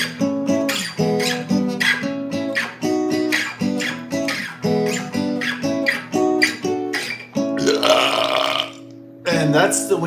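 Singer deliberately hitting a burp-like vocal note within a musical performance, the burp tone sitting among sustained harmonic singing and repeated phrases over roughly ten seconds, loud and close.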